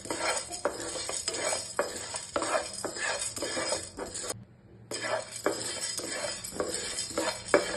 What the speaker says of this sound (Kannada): ಅದಕ್ಕೆ ಪೆಪ್ಪರ್, ಜೀರಿಗೆ ಮತ್ತೆ ಸೋಂಪು ಈ ಮೂರನ್ನು ಹಾಕೋತಾ ಇದ್ದೀನಿ. ಇದನ್ನ ಡ್ರೈ ರೋಸ್ಟ್ ಮಾಡಬೇಕು